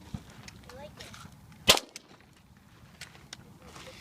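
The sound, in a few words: 22 Ruger Long Rifle gunshot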